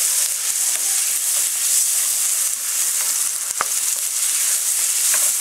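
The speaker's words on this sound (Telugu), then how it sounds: "వేగిన తర్వాత కొంచెం ఆనియన్ వేసుకోండి" Onions sizzle steadily in hot oil in a pan while a Methi Chaman is being cooked; a dense, even hiss runs throughout, with a couple of small sharp clicks partway through.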